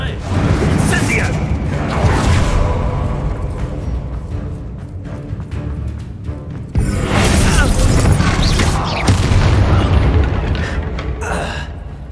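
Incendio fire spell cast in the Hogwarts Legacy video game: a loud burst of whooshing, crackling magic amid dense game effects and music, with a second surge of blasts about halfway through, under a voice.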